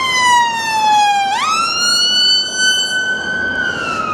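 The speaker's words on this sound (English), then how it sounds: "I think there's an ambulance just waiting to go past." An ambulance siren wails loud and close along a busy town-centre road in Blackpool, its tone sweeping down and then jumping back up as the vehicle passes, with no voices.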